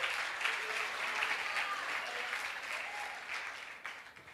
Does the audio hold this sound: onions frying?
no